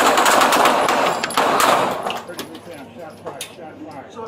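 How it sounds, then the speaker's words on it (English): Police gunfire outside, behind a Catholic school: a loud, rapid volley of shots rings out close by, then fades into quieter scattered sounds. "Shots fired. Shots fired."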